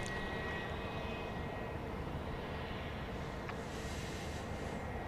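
A NetJets business jet, Flight 761 arriving at Dallas Love Field at night, gives a steady broadband engine roar that holds throughout at fairly constant loudness, with no talk.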